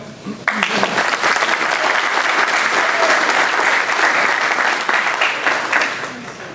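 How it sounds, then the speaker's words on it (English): Sustained audience applause fills a Hall of Fame ceremony hall, starting abruptly and holding steady as a dense, loud wash of many clapping hands before easing slightly at the end. "give Hal a hand clap"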